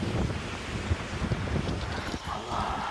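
Strong wind buffets the microphone outdoors, a dense roaring rush with gusty bumps lasting the whole stretch.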